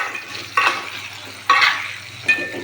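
Jujubes fry in oil over a gas flame, a steady sizzle in a pan with three louder bursts of crackling as they are stirred or added.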